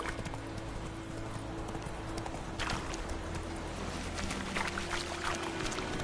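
Hooves of a horse in The Witcher 3 clip-clopping in a steady trotting rhythm, moderately close and continuous over faint background ambience.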